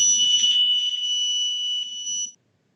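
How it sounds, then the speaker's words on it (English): An electronic alarm goes off inside a store, a steady, piercing two-tone beeping that holds for about two seconds and then cuts out abruptly, loud and alone. "sound like an alarm going off"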